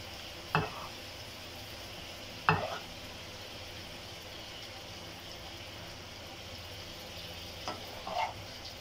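Meat cooking in a pot as it releases its own water for a lentil and vegetable dish, a quiet continuous simmering sizzle broken by three or four brief clinks of a utensil against the pot.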